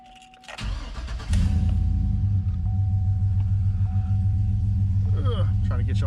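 A dirty Chevy 2500HD tow truck cranks briefly and fires, then settles into a loud, steady, rumbling idle heard from inside the cab.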